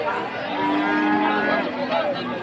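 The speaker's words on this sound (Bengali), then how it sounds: "হাটের আরেকটি কোনায় গরু ঘুষি হাতে নিয়ে ব্যাপারীরা দাঁড়িয়ে আছে বিক্রি করার জন্য" At a cattle market, a cow lets out a loud, close, drawn-out moo that lasts a couple of seconds over a faint background of crowd noise.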